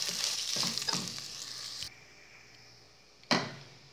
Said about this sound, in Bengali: শুনতে পারছেন এরকম একটা শন শন চাউলের শব্দ পাচ্ছে